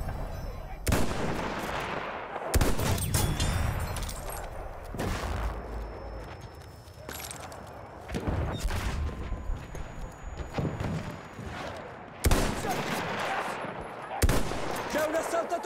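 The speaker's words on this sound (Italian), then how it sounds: "Là, una mitragliatrice nemica!" In Battlefield 1 gameplay, an enemy machine gun fires in loud, harsh bursts that repeat across a dense battlefield din, with heavy blasts and sustained rattling that swell and fade.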